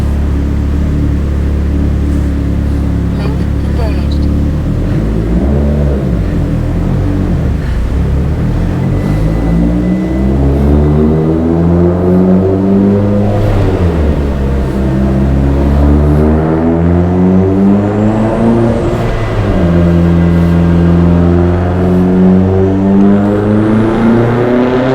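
Mitsubishi Evo X with a GTX3576 turbo, 1200cc injectors and Kelford 214-b cams on a stock block, running hard on a dyno on E85 fuel; a loud, sustained engine roar sweeps up and down in pitch through repeated acceleration pulls.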